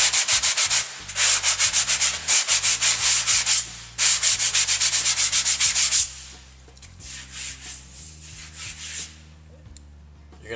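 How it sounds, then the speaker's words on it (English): A sanding block scrubs a drywall patch in quick, steady back-and-forth strokes, a gritty hiss repeated in rhythmic bursts with brief pauses, then softer, lighter passes toward the end. "I'm going to use a sanding block, just a standard sanding pad, find a drywall sanding pad"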